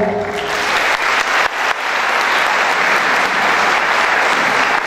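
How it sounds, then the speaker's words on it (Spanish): Audience applause at a university law conference rings out loud and dense, filling the whole stretch as a steady wash of many hands with no talk over it. "Pedimos un fuerte aplauso para ella."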